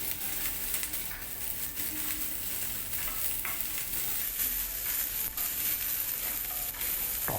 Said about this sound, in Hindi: फिर कैप्सिकम, और इसको हम 1 से 2 मिनट के लिए थोड़ा सा सौटे करेंगे और टॉस करेंगे।